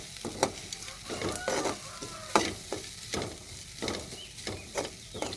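Coconut rice stirred in a pan, a regular series of scraping strokes of a spoon against the pan over a faint sizzle, close and steady with no talking.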